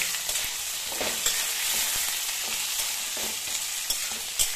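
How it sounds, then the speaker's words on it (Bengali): Eggplant pieces frying in a pan for a vegetarian dish, giving a steady close sizzle with a few soft stirring clatters scattered throughout. "এবার আমি দিয়ে দেবো বেগুনগুলো দিয়ে দেবো।"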